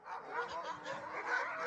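Dogs bark and whimper in a short, moderately loud burst of yelps and yips, with no clear talk over them.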